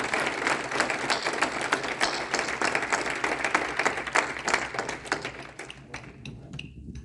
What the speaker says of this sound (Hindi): मेरा दिल चाहता है कि हम सब मिलके बहुत ज़ोरदार तालियां बजाएं